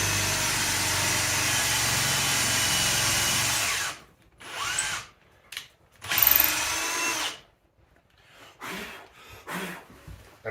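Power drill boring into wood through a long hex-shank bit on an extender, running continuously and loudly at first, then cut into short stop-start bursts separated by near silence.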